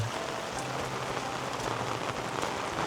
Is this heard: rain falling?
yes